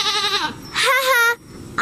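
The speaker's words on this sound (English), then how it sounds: "I like goats." Two wavering, nasal goat bleats in quick succession, loud and close, with a third cut off at the end.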